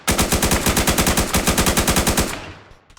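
Rapid automatic gunfire in the shooter game Project Speedkills, a steady burst of about two dozen loud, evenly spaced shots, then a short fading tail.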